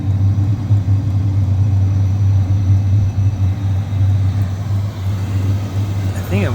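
A diesel heater runs with a steady low hum and rumble, its fuel pump faintly ticking beneath the continuous drone, close by and alone.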